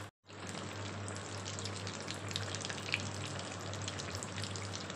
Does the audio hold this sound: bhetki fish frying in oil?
yes